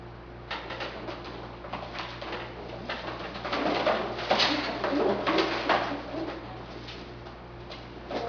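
Pigeons coo softly and repeatedly in a loft, with low rhythmic calls over a steady hum and scattered ticking and rustling.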